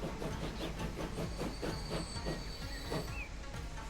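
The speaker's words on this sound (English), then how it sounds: "I love their train sound noise generators." Train sound from the Transport Fever 2 video game, a faint, steady rhythmic clickety-clack of wheels over rail joints with a faint hiss beneath, repeating evenly throughout.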